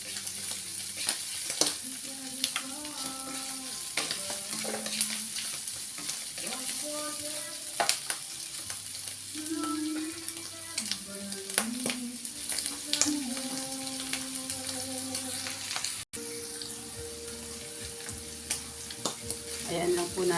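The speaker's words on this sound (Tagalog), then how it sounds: "Mag-isa yung tahong sa bawang sibuyas." Mussels sautéing with garlic and onion in a pan for ginataang tahong, a continuous crackling sizzle with scattered clinks and scraping of stirring, moderately close and steady throughout.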